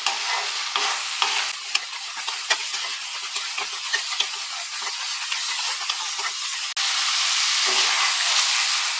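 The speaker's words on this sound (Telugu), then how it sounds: "నెయ్యి వేసుకొని బాగా మిక్స్ చేసుకుంటూ ఉండాలి." Kalakand, a milk sweet mixture cooked with ghee, stirred in a pan: steady sizzling hiss with repeated scraping strokes of the spoon, close and continuous, slightly louder toward the end, no talking.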